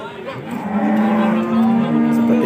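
A cow gives a long, loud, close moo at the Pasar Paing cattle market in Pati, with market background noise behind it.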